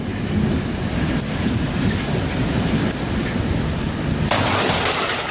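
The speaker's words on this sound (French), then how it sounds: "Quand tu veux immortaliser un superbe paysage d'orage, mais que la foudre s'abat à 10 mètres sur toi" Heavy rain pours during a thunderstorm with a steady, loud hiss and low rumbling thunder, then a sudden sharp crack as lightning strikes very close near the end, with no talking.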